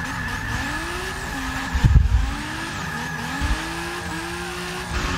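Drift cars skidding into the first turn at Monza during a European drift competition, with loud engine drone, tire squeal and a revving surge midway, continuous throughout.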